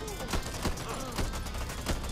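Weapons fire in the zombie shooter game Back 4 Blood sounds as rapid bursts of shots in a fairly steady rhythm, moderately loud against a busy game background.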